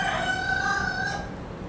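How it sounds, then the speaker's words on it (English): A rooster crows at night, a drawn-out, wavering call heard from a moderate distance over a noisy background. "Even at nighttime they crow."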